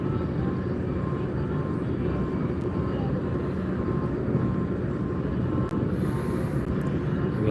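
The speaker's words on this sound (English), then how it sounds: "Hear a jet squirming around out there." A continuous loud engine roar of a jet aircraft droning nearby, heard from a boat tour in Cleveland, holding steady throughout without pause.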